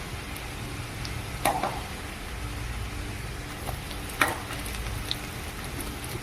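Chopped garlic fries in oil with a soft, steady sizzle close by, broken by a couple of brief stirring clicks, and no one speaks.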